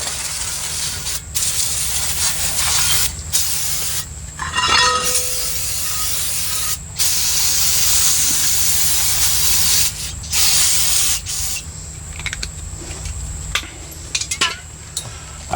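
Cleaner sprayed hard onto the drum brakes of a 2003 Toyota Tundra, long hissing aerosol bursts broken by short pauses, close and loud, with faint metal clinks between sprays.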